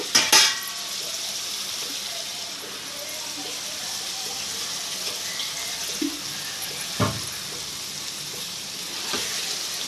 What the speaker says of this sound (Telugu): ఈ పేస్ట్, ఉల్లిపాయ పేస్ట్, వంకాయలు కూడా అంతా నూనెలో శుభ్రంగా మగ్గిపోవాలండి బాగా